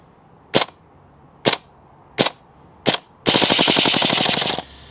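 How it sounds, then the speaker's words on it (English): An M1 carbine replica CO2 BB gun with blowback action fires four sharp, evenly spaced single shots, then a rapid buzzing burst as the gas runs out, close and loud with no talk. "Let me give you guys a closer look at that blowback action."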